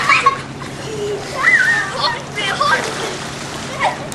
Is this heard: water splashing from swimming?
yes